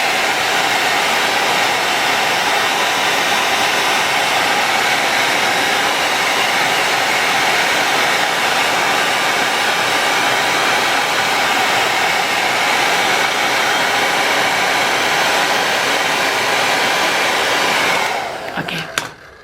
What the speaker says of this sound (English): I am getting my, hair dryer, which hangs from the tripod